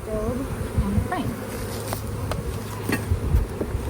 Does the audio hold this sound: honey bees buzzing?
yes